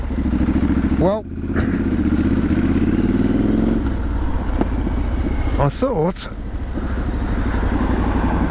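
Triumph Street Scrambler motorcycle exhaust rumbling loudly and steadily between narrow town streets, with a couple of brief revs rising and falling, while someone talks over the engine.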